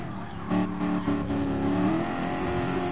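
A race car engine in Gran Turismo Sport drones at high pitch, revving up in a couple of surges before holding a steady, loud whine.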